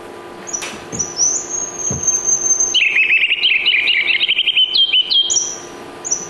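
A ruby-crowned kinglet delivers a loud, high, rapid warbling song, rising into fast repeated notes, close by with faint background noise.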